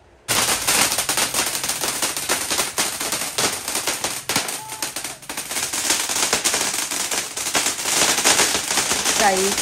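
Firecrackers set off outdoors during the Bhau Beej Diwali festival make a dense, continuous rattle of rapid cracks and bangs, like a string of crackers going off nearby. The sound is loud and almost unbroken, with voices faintly mixed in.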